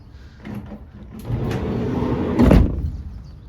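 A white Volkswagen Transporter 2.0 TDI T28 panel van's sliding side door rolls along its track with a rising rumble, then shuts with one loud, close thud.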